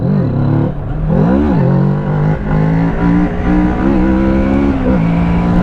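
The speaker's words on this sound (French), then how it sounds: "Le pot d'origine fait un bruit rauque, le son est même limite sympa." A Kawasaki Z650 motorcycle on its stock exhaust idles loud and raspy, the throttle rising and falling in a few quick revs before settling back to a rough rumble.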